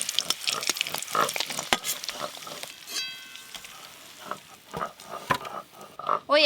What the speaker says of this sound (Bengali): ডিম বেশ লাল লাল করে ভেজে নিয়েছি।